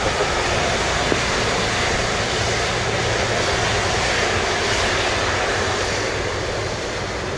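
Airbus A330 jet airliner at Montego Bay airport, Jamaica, likely taking off: a steady, loud broadband engine roar with low rumble holding evenly throughout, windy and continuous with no talk.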